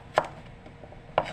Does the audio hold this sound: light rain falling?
no